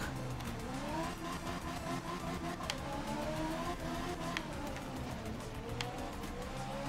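In art of rally, a rally car's engine hums and rises and falls in pitch as the car slides along the road, with light ticks and scrapes over a continuous moderate drone.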